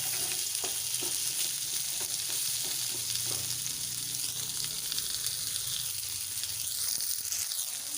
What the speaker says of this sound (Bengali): পটলগুলো প্রথমে আমি কিছুক্ষণ ধরে একটু ভেজে নেব।